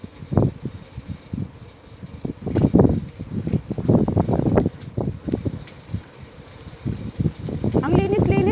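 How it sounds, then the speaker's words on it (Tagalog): Strong gusts of wind buffet the microphone beside a corn field along a clean rural road, rising and falling in loud rushing bursts throughout, with brief speech heard over it. "And the very strong wind."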